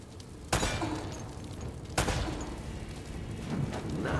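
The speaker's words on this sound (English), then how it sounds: "Shoot the lamp." Two loud gunshots ring out in the Uncharted video game, a couple of seconds apart, each with a sharp crack and a lingering, crashing tail as a lamp is shot out, over steady background ambience.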